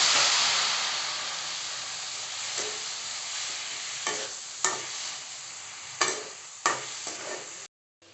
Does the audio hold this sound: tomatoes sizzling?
yes